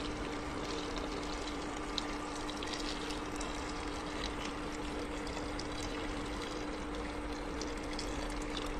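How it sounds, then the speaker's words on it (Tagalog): Beef broth is poured into a pot of beef nilaga, making a faint, steady watery rush that continues evenly with a low hum underneath and no talking. "Lagyan natin ng sabaw natin nilaga ng karne"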